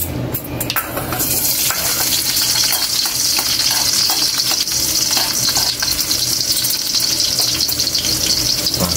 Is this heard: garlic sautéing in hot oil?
yes